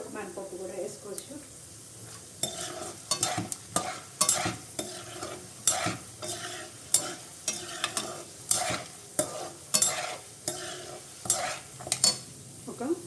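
Lentils frying on a low flame for mango pulihora, with a soft sizzle under repeated rhythmic scraping and clinking of a spoon stirring in a pan, while a person talks.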